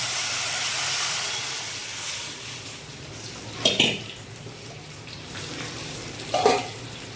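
Onions and tomatoes sautéing in a pan for a fish kuzhambu, a soft steady sizzle with two sharp spoon-on-pan clanks from stirring, close and with no talk heard.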